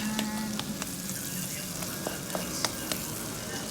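Garlic and onion frying until brown in a pan, giving a quiet, steady sizzle with scattered small pops and crackles, close and without talk.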